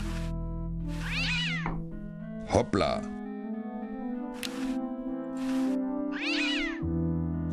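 A cartoon cat in the Day of the Tentacle adventure game meows several times in drawn-out, wavering cries, with a short sharp thump in between, while someone speaks over it.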